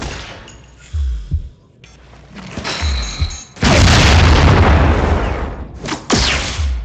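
Rolling grenades go off in Marvel Heroes: several heavy, booming blasts with clanking mechanical bursts, one long roaring detonation in the middle and more hits after it, loud and close.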